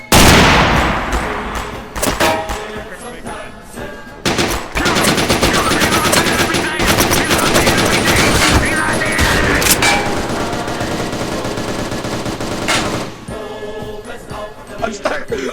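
Rapid gunfire from a Glock pistol in a VR shooting game, with dense bursts of sharp repeated shots that stay loud and close for most of the stretch, broken by brief pauses.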